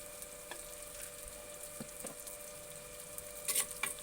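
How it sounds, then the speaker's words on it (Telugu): Onions and green chillies fry quietly in hot oil with a faint, steady sizzle. A few soft taps and a brief rustle of stirring come near the end, and there is no speech. "మంచి నూనె వేడెక్కినాక మనము ఉల్లిగడ్డలు వేసుకుందాము"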